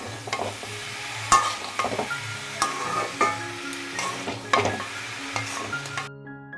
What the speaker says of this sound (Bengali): দেখো এখানে ভাজাটা বসিয়ে দিয়েছি